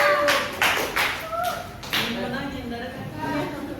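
Students in a micro-teaching classroom clap for the presenting groups: a handful of sharp, close handclaps in quick succession, then fading as a voice talks.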